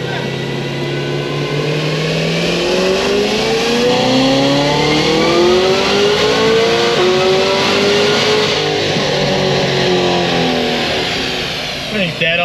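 A loud stage 4 Cadillac CTS-V engine revs hard through rising pitch sweeps, shifting gears near 7,100 rpm. The roar is sustained and close for about twelve seconds, and bystanders can be heard talking.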